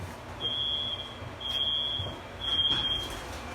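A college dormitory smoke detector sounds three shrill, piercing beeps in a steady, evenly spaced pattern, loud and close against faint room noise.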